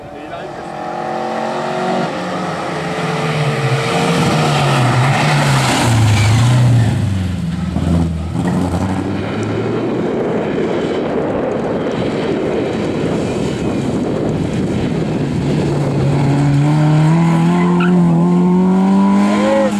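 A historic rally car in a French historic-rally championship final approaches and roars past at speed, its loud engine note rising then dropping away with tire noise, while spectators' voices murmur nearby.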